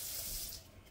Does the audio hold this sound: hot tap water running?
yes